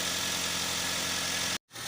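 A car engine idles steadily while charging its 12-volt battery, a constant mid-pitched running hum that cuts off abruptly near the end and then returns faintly.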